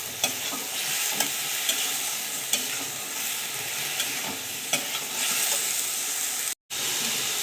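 Vegetables, including flat beans, eggplant and stems, simmer in a pan after turmeric and water are added, giving a steady bubbling sizzle with faint stirring clicks at close range.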